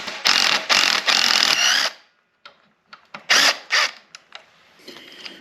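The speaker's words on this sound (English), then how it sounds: "this is where you're going to need your 6 mil Allen" Mechanical ratcheting and tool noise while a foot peg bolt is loosened with a 6 mm Allen key on a Yamaha WR250R motorcycle, in several loud close bursts separated by short pauses and softer clicks.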